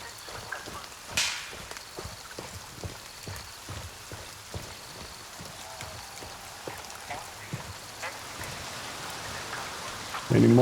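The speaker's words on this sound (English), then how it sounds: "it's raining really, really heavy right now" Heavy rain pours in the game Grey Zone Warfare, a steady hiss of drops with scattered sharp taps and cracks, fairly faint, ending in a sudden loud burst of sound.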